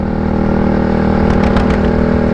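Motorcycle engine running steadily while riding, a loud continuous drone with a mid-pitched hum and rough rumble, close and constant throughout with no voices.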